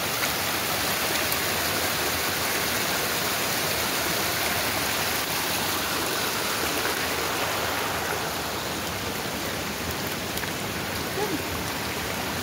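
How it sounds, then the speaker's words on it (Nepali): Loud, steady rushing of a swollen, fast-flowing stream in flood, a continuous broadband roar close by with no pauses and no voices. "साना साना खोलाहरू पनि यत्रो बढेर यत्रो भइरहेको छ। हेर्नुहोस्, पानीको बहाव निकै बढेको छ।"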